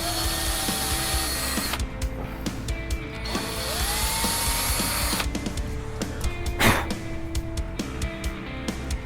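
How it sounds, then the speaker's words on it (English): A power drill whirs steadily in bursts, drilling shallow starter holes for screws during a guitar rebuild, its motor pitch rising and falling as it bites into material, with clicks and handling noises between runs. "just kind of drill a couple of starter holes"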